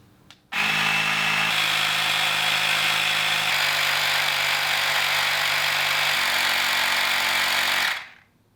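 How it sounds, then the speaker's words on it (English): A small electric air pump inflates an e-bike inner tube, starting with a sudden loud buzz that holds steady for about seven seconds, its pitch stepping down a few times before it cuts off abruptly. "when I hear this pump shut off, I know the tire's aired up to proper PSI"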